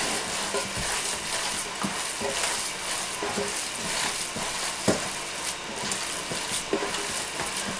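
Minced meat kneaded by hand in a bowl makes soft, wet squelching and slapping sounds with occasional sharper knocks, fairly close and steady, with no talking.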